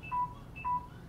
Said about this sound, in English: That was my phone beeping. Battery's low.